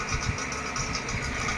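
A vacuum pump evacuating a refrigerator's sealed system before a freon recharge, during repair of a fridge with weak cooling, runs as a steady, loud mechanical drone with a fine rapid vibration throughout.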